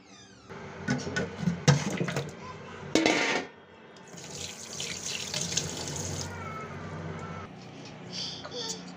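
Running tap water rinses cleaned stinging catfish (shing fish) that were scrubbed with turmeric and salt, splashing steadily into a sink for several seconds with a louder gush near the start and brief handling noises.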